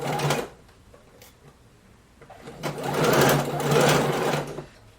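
A sewing machine stitches a short seam closing a fabric sleeve, with a brief burst of whirring, a pause with small clicks, then a longer steady run of rapid needle chatter close by.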